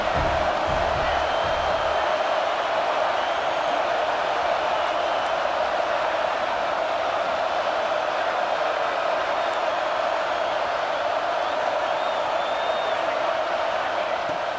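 Stadium crowd noise from a college football video game matchup between Michigan State and Texas A&M, a steady broad roar with occasional whoops holding at an even level throughout.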